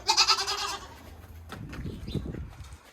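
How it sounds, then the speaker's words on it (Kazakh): An Alpine dairy goat gives a loud, close, wavering bleat that lasts almost a second. Softer rustling and low grunting movements of the animals follow in the pen. "Керемет ешкілер."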